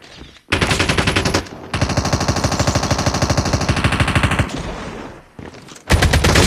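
Rapid automatic AK47 bursts from Call of Duty Mobile rattle loudly in sustained strings, broken by a brief lull and a quieter stretch before another burst starts abruptly at the end.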